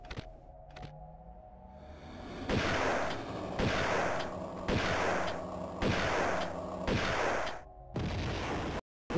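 Several loud shotgun blasts in the video game Tomb Raider II boom one after another at a steady pace, each sharp crack trailing off briefly before the next.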